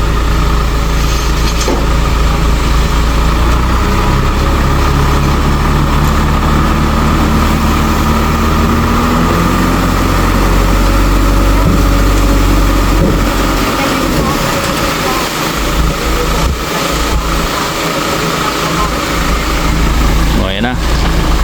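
A white truck's engine idles at a fence-building site with a steady low rumble for over twenty seconds and a slight rise in revs partway through, while people talk nearby.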